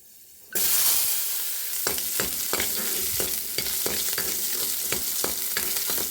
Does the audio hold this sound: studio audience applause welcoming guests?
no